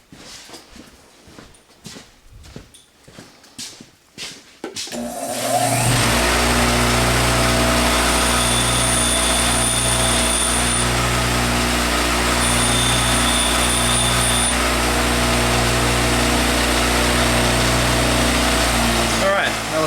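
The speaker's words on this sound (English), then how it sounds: "So I'm going to take and grind that little burr off." An angle grinder spins up and grinds a burr off a Camaro door hinge pin, a loud, sustained whine close by that runs steadily after a few seconds of quieter handling and talk.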